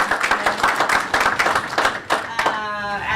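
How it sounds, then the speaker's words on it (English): An audience at a tax strategies seminar applauds the speakers, a dense burst of clapping that thins out toward the end as a voice starts speaking over it. "applause for them"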